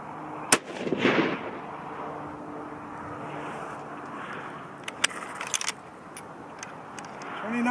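A .243 Winchester rifle firing a 95-grain pulled-bullet load gives one sharp, loud crack near the start, trailed by a rolling echo, then a low outdoor hum with light clinks and rustles.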